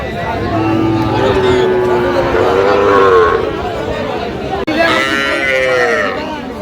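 Cattle bellow in long, drawn-out moos at a busy livestock market, several calls overlapping with crowd chatter and people talking nearby.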